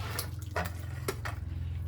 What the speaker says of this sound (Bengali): শুক্তো আমার হয়ে গেছে, এবার আমি ঢেলে নিচ্ছি।